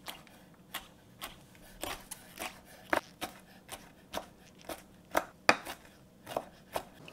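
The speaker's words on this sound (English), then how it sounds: "Here I have some hydrated woody mushroom. I'm going to chop this up and add to the pork paste." A knife chops hydrated woody mushroom on a cutting board in an uneven series of crisp, close thunks, quiet overall with short gaps between strikes.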